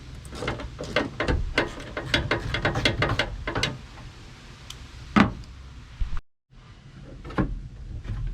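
10 mm bolts being removed from the bed of a Toyota Tacoma pickup with a ratcheting tool, making a run of rapid clicking strokes close up, then a metallic knock, a brief silence and a few more faint clicks.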